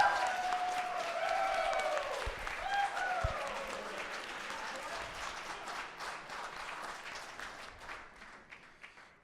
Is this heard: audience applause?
yes